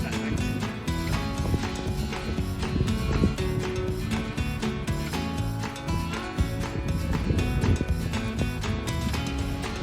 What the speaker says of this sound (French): pourquoi un cheval ça court, Justin?